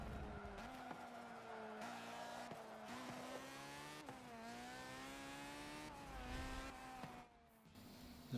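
A tuned Mazda RX-5 race car in Forza 7, its engine revving high and shifting through rising and falling pitch sweeps as it crosses the line, fairly faint, with a brief rush of tire and road noise near the end.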